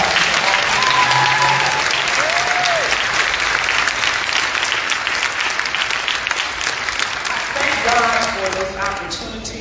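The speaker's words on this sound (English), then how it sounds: "So let's give a round of applause." Audience applause at a community presentation, a steady roar of clapping that fills the whole stretch and fades slightly toward the end, with a voice speaking over it.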